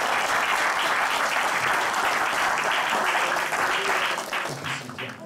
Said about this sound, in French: réservons-lui encore nos applaudissements